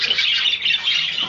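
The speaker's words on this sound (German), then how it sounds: "Ja, Milka. Der Milka-Vogel" A pet budgerigar gives a harsh, continuous squawk, loud and close, wavering in pitch for just over a second with no talking.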